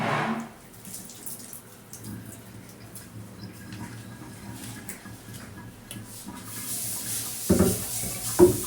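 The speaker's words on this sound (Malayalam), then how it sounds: "ആ അരിപ്പയിൽ നമുക്ക് ഇതൊന്ന് ഊറ്റിയെടുക്കാം വെള്ളം കളയുക" Quiet water trickles at first, then a brief burst of splashing water pours through a strainer near the end as it drains from raw mango pieces for pickle, close by.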